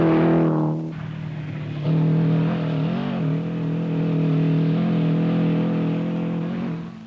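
Rally cars race along a dusty road during the 1979 Safari Rally in Kenya, near Mombasa, their engines roaring loudly and revving steadily, with a brief rising pitch sweep as a car passes close by.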